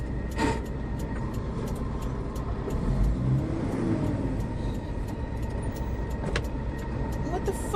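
A pickup truck stuck in a snowstorm, its engine droning and straining steadily throughout, close and loud inside the cab, with a sharp click or two.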